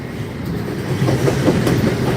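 Norfolk Southern freight train rolling past close by, a loud continuous rumble of wheels and cars with rhythmic clickety-clack building toward the end.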